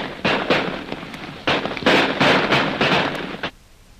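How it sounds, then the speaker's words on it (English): Several rapid gunshots fired over people's heads, about eight loud, sharp cracks in quick uneven succession, close and unaccompanied by talk. "We'll shoot several times as fast as we can, Lil."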